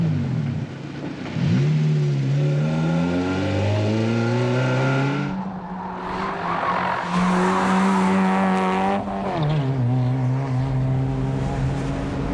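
Nissan Sentra race car lapping a circuit, a loud close engine climbing through the revs in long sweeps, dropping sharply at gear changes and rising again, with tire squeal mixed in.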